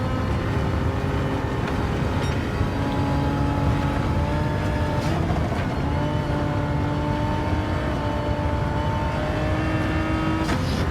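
Car engine in the Gran Turismo 7 racing game, upshifting to fourth and dropping back to third, a steady droning engine note with shifting harmonic pitch under constant road rumble, no voices.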